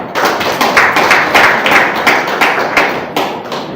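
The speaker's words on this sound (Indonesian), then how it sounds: "Tepuk tangan semuanya." Hand clapping from an audience at an installation ceremony for an Indonesian education movement's board, a dense run of claps with regular rhythmic pulses, loud and close, lasting throughout with no talk over it.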